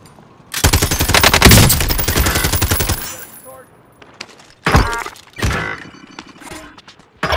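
Video game gunfire in Call of Duty: Modern Warfare: a loud, rapid automatic burst lasting a few seconds, then scattered heavy single shots and impacts with echoing tails.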